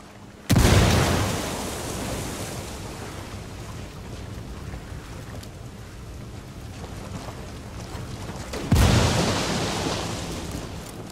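A frag grenade in the video game Ghost Recon Wildlands goes off with a heavy, booming blast, followed by a long rumbling tail and a second loud detonation near the end.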